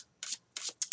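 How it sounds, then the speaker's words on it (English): A deck of cards is shuffled in short, brisk swishing bursts, three or four quick riffles in under a second, close and fairly soft. "I'm going to keep shuffling a little bit"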